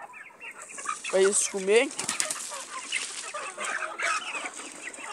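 Hens and small chicks clucking and cheeping while being fed, with a few loud rising clucks and scattered peeping close by, wings briefly flapping, and someone talking softly among the birds.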